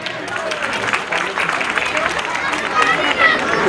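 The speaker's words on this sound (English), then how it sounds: "let us applaud the celebration of our nation" Crowd at an outdoor India Day parade applauding: a dense, continuous wash of clapping mixed with chatter and cheering voices, fairly loud and swelling slightly toward the end.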